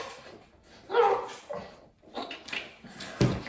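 A dog whines and yips in short bursts, then lets out a sharper bark near the end, close and fairly loud in a quiet room.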